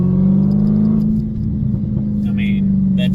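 A Dodge Challenger SRT Hellcat with a six-speed manual, running in 500 horsepower mode, accelerates hard in second gear, its deep engine rumble rising loud and close from inside the car.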